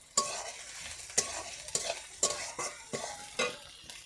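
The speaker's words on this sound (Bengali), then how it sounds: "এবার দিয়ে দিচ্ছি রসুনটা 2 চামচ মতো।" Ground garlic paste for chicken biryani frying in a pan, stirred with a spoon in about seven distinct scraping strokes over a soft sizzle, close and quiet with no talking.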